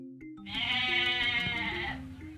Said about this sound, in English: Cried the fleecy lambs, woolly and white.